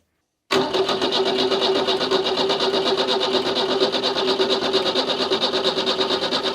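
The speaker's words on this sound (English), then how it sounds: "I just want to see if the fuel pump is actually working." A Renault 4 fuel pump under test starts abruptly after half a second of silence, then runs as a loud, steady, buzzing mechanical drone with a fast even pulse that holds unchanged to the end, with no voices.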